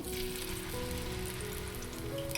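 Batter sizzling in a pan over a medium flame, a dense, even hiss like light rain that holds steady throughout, close and fairly quiet, with no voices.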